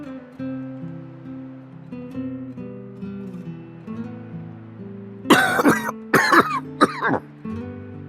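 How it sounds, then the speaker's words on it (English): A video game character in Xenoblade Chronicles 2 gives a short burst of coughs, three harsh bursts close together, loud and near over steady background music, with no talk during the coughing. "Just a pesky little cough."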